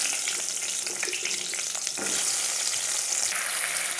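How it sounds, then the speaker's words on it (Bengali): Pointed gourd (potol) pieces drop into hot oil after potatoes have fried, producing a loud, dense continuous sizzle with brief crackling bursts, close up and without speech. "তারপরে এই তেলটার মধ্যে পটলগুলো ছেড়ে দেবো"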